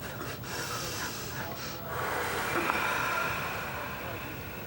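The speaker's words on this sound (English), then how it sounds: "inhale, exhale very rapidly through our nose" Rapid, forceful nasal exhalations from yoga breathing practice, a quiet, breathy rushing that repeats in quick succession at close range, soft and steady with no talking.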